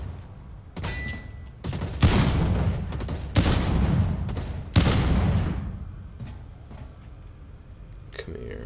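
Bursts of gunfire in the shooter game Blacklight Retribution, several loud, sharp volleys in quick succession, each trailing off, with a player talking in between and a quieter stretch at the end.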